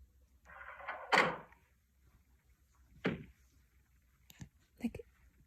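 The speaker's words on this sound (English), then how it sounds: "it literally sounded like if it was a drawer opening" A drawer sliding open at 3 a.m. in a house, a faint scraping rustle followed by a sharp knock and a few quieter clicks and bumps, sparse and fairly distant.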